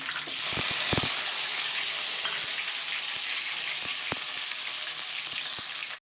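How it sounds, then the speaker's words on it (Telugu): Curry leaves and chopped onions fry in hot oil for a radish sambar, a loud, steady sizzle with a few sharp crackles and pops early on, then cutting off abruptly at the end. "బ్రౌన్ కలర్లో వచ్చే వరకు వేగాలి"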